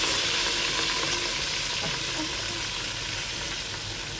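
Fenugreek seeds fry in hot ghee with a dense, loud, continuous sizzle and crackle up close, with no voices.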